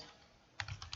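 A few quick, faint keystrokes tap on a computer keyboard while a message is typed, a short irregular clatter against a quiet background.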